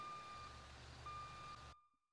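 Truck reversing alarm in GTA 5, steady electronic beeps with a constant tone in two long stretches over a low engine rumble, loud and close, then cutting off abruptly into near silence.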